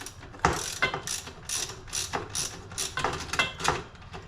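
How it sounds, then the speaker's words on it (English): A socket wrench with a shallow socket ratchets as it tightens a nut on a manual retractable awning, a series of crisp clicking bursts in a steady back-and-forth rhythm, close and clear with no talk. "just tighten it as far as it'll go with the shallow socket"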